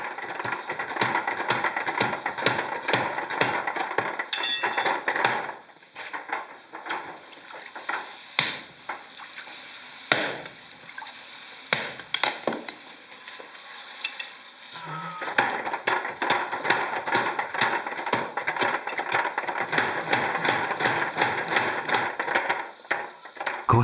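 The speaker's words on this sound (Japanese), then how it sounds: "真っ赤に焼けた玉鋼をハンマーで叩き伸ばします。" A hammer strikes red-hot tamahagane steel during katana forging at a Kyoto swordsmith's workshop, fast rhythmic metallic blows repeating steadily throughout with brief pauses and a few bright ringing clanks.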